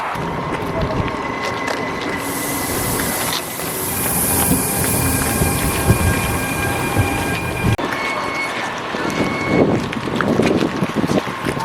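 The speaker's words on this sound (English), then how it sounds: "I'm just waiting for the train to arrive here on track number 1" Loud rumbling rail noise with metallic squeals and wind buffeting, a train rolling in close by at a station platform in Sweden, with a few faint voices in the background.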